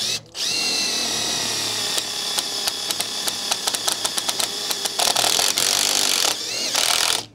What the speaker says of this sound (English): They're a self-drilling screw, so they'll go straight through the wood.